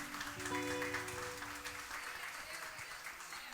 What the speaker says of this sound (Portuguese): Receba o nosso irmão com uma salva de palmas para o Senhor Jesus.